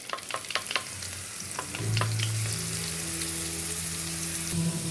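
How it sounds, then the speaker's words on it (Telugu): Onion paste with mustard seeds and cumin frying in a pan for a masala ivy gourd dish: steady, loud close sizzling, with crackling pops early on and a continuous hiss that swells midway, no talk. "ఇదిగండి ఉల్లిపాయ కొంచెం వేగింది."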